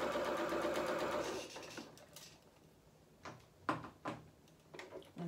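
A sewing machine stitches gathers on a small festive doll dress in a short continuous whir that stops after about a second and a half, followed by a few quiet clicks and knocks of handling.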